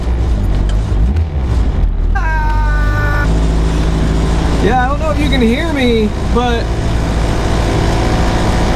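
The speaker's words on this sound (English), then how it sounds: "everything is shaking here. This car is going to rattle itself to bits if I leave these in here as they are." A Honda Civic EG engine idles loudly on stiff Hasport mount bushings, a constant heavy rumble and vibration throughout, while a person talks over it.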